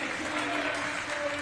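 Spectators at a partially sighted football match clap steadily and evenly for a moment after Spain's 4-1 group-stage victory, a dense wash of applause heard from a distance.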